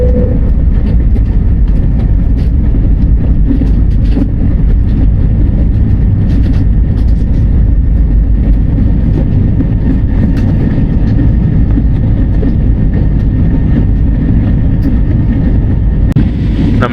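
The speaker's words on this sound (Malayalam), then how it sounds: "നമ്മുടെ ബാങ്കോക്കിൻ്റെ മുകളിലൂടെ ദാണ്ടെ വിമാനം പറന്ന് പൊങ്ങിയിട്ടുണ്ട്" An airplane takes off and climbs over Bangkok, heard as a loud, steady, broadband roar that holds for the whole stretch with no talking.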